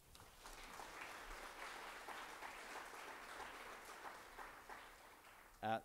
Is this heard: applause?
yes